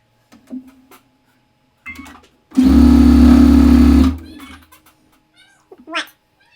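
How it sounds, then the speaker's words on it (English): Home sewing machine stitching flying geese quilt units, one loud steady mechanical whir lasting about a second and a half, with faint fabric handling and a voice heard softly around it. "I'm actually going to sew both of them on before I press them."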